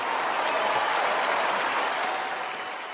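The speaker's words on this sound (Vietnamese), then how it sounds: "Một tràng pháo tay thật lớn của cộng đoàn ạ." A congregation gives a singer a warm welcome at a Catholic church gathering, sustained dense applause like a steady wash of many hands, loud and even throughout before easing slightly at the end.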